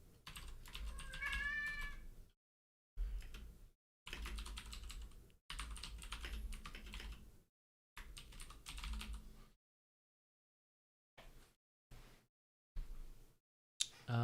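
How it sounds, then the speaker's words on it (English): A cat meows close by, a long wavering call and then shorter ones, mixed with bursts of computer keyboard typing separated by silent gaps. "You just want to meow off camera."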